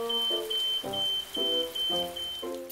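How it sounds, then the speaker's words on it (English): A smoke alarm beeping in a steady repeating pattern of short high electronic chirps, about five in under three seconds, loud and close, with a low tonal warble under each beep. "Alarm."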